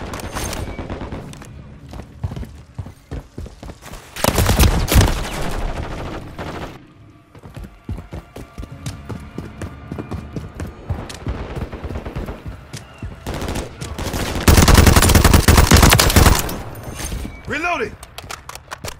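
Call of Duty Team Deathmatch gunfire crackles in rapid bursts and volleys, with louder heavy clusters of shots amid game sounds and background battle noise.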